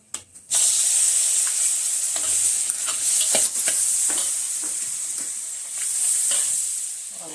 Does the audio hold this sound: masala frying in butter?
yes